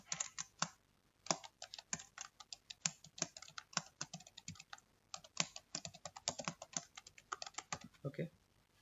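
Fingers tap away on a computer keyboard in quick, uneven bursts of close, crisp key clicks, with brief pauses between words and phrases, recorded quietly.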